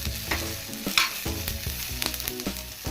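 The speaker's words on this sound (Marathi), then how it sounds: "त्याला व्यवस्थितरित्या हलवून घ्यायचं आहे मसाला हा व्यवस्थितरित्या भाजला गेलेला आहे" Roasted masala stirred in a pan for a Maharashtrian stuffed brinjal curry, a steady close sizzle under repeated scraping strokes of a spoon against the pan, no voices.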